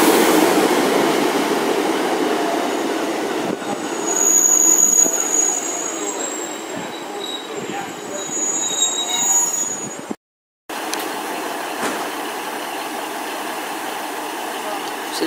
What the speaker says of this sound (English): So this is 150131, working a First Great Western service from Paignton to Exmouth.